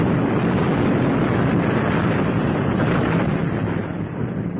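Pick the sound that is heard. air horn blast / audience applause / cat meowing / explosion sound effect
explosion sound effect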